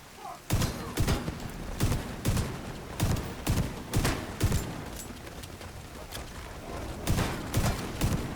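Shotgun firing in the video game The Division 2: about a dozen sharp, booming blasts at roughly half-second to one-second intervals, loud and close, each with a short thud.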